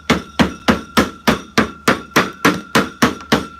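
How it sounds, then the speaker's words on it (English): A rubber mallet pounds a fermenting bucket lid shut while sealing mead, about eleven sharp, evenly spaced whacks, close and loud with no talking. "we're going to use this rubber mallet and go ahead and hammer this guy down"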